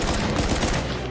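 Rapid video game gunfire from Uncharted 4: A Thief's End, a dense, loud burst of overlapping shots filling the whole moment, with no speech.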